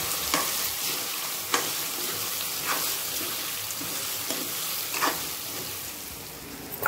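Pieces of bael fruit fry on a low flame with a steady, close sizzle, broken every second or so by the scrape of stirring.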